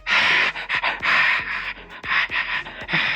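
A voice imitates heavy panting, with loud, rhythmic breathy gasps repeating close to the microphone, alone and without talk.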